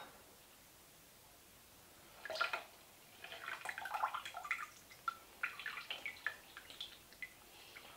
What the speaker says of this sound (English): I'm draining them all in front of the camera